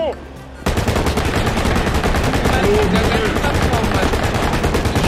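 An M249 machine gun in a video game, fired from a moving vehicle, lets out a long rapid sustained burst of loud close shots, starting after a brief quieter moment, with faint voices in the background.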